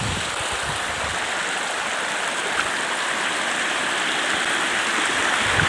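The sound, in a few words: rushing stream water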